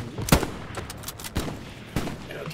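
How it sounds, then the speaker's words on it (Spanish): Several sharp gunshots crack at irregular intervals over a busy Hell Let Loose game soundscape, loud and close, with scattered distant firing in between. "escucho tiros"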